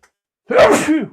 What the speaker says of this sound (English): Yeah, sorry. I had to sneeze.